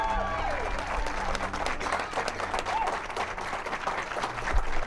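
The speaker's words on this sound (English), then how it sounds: "Can we hear applause again, guys?" Crowd applause fills the space as a dense, continuous wash of clapping mixed with murmuring voices, holding steady for several seconds at a fairly loud level.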